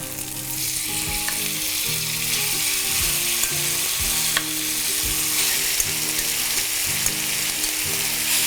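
Steady, dense sizzling of chicken breast frying in a little oil in a hot pan for Korean bulgogi, loud and close, with occasional light pops and utensil scrapes.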